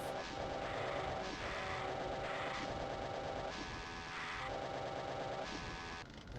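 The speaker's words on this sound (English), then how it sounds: "Chainsaw time." Chainsaw in the 1993 PC game Doom, a harsh, buzzing motor drone running steadily with rhythmic surges as it chews into Lost Souls, loud and cluttered with game noise, no talk.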